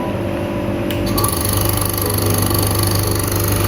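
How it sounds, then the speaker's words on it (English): A laboratory vacuum aspiration system for clearing liquid from ELISA plate wells runs after being switched on. It makes a loud, steady motorized hum with a low pulsing drone that settles in just after a brief click. "this is our vacuum system, and I have switched it on"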